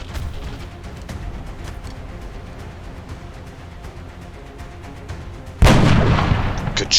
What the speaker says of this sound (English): Good shot, Flores.